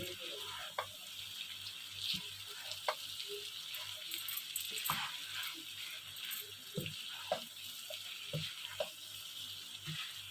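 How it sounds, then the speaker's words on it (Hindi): Bhindi gosht, mutton with okra and onions, is stirred in a pan, giving a faint, soft sizzle with a few light scrapes and taps close by. "और इसे अच्छे से मिक्स कर देंगे।"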